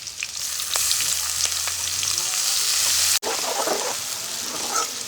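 Onion sizzles with whole cumin and chillies in a hot pan during village-style cooking of a stuffed bitter gourd curry. A loud, steady frying hiss with crackles stays close, broken by one brief cut.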